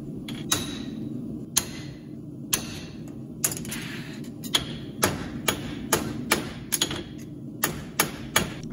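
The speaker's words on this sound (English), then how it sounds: "Just simply pop some nail holes at the end of the shoe." Hammer strikes punching nail holes into the end of a horseshoe, done by hand without a drill press, sounding as sharp metallic taps spaced irregularly over a low steady background.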